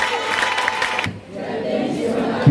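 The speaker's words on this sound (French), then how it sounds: "Vas-y, acclame le" A church congregation cheers and shouts in acclamation of God, a dense crowd roar that breaks briefly and then swells again, mixed with voices.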